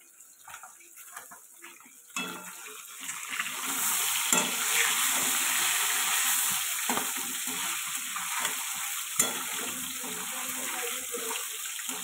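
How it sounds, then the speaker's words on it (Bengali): Rohu fish pieces fry in hot oil, a steady loud sizzle that swells after the pieces go in and carries on close by with faint clatter and no talking. "এই যে এক একটা করে মাছ ভেজে নিচ্ছি।"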